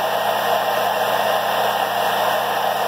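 A hair dryer blows air steadily and continuously at close range, a loud, even whoosh with a constant motor whine that holds unchanged throughout with no talking.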